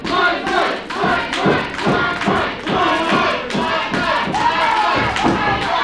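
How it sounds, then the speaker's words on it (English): Wrestling fans in a small Memphis studio chant in a rhythmic crowd cadence, with repeated pulses of voices and claps about twice a second, close and loud. "The fans chanting for Michael Clark."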